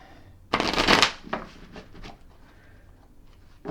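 New tarot decks are shuffled up close, a quick burst of riffling and shuffling followed by softer card handling and a few light taps.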